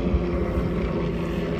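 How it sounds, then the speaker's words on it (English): A helicopter drones low and steady overhead at an outdoor hobbyhorse show, a dense rumbling wash with no pauses over its short span. "I know the helicopter's scary."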